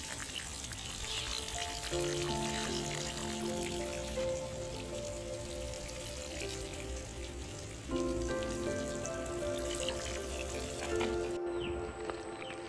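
Water is poured into trenches dug in poor garden soil around a young planting, producing a steady, close splashing hiss that runs throughout, with faint tonal sounds underneath.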